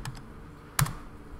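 A few quick keystrokes on a computer keyboard, soft clicks with one sharper tap in the middle, close and alone in a quiet room.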